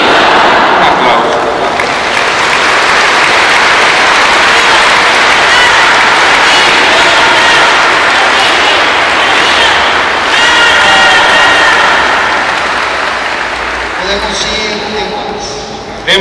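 Applause and cheering from a church congregation during an evening Marian celebration, a dense sustained clapping wash with crowd voices throughout, continuing steadily before thinning slightly near the end.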